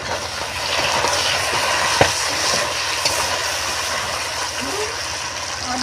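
Onion frying with salt in a pan for village-style chana masala, a loud steady sizzle with brief scrapes of stirring, close and continuous.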